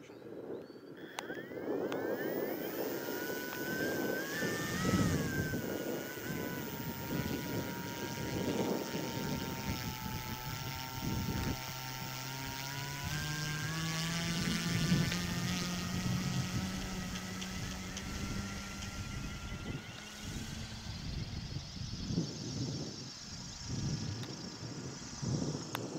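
A model Cierva C30A autogyro takes off and flies outdoors, its small engine and rotor giving a continuous buzzing drone that shifts pitch as it climbs and changes direction, heard from a moderate distance throughout.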